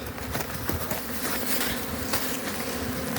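Honey bees crowding inside an opened hive at an apiary in early spring, a dense close buzzing hum with wing flutters, steady throughout.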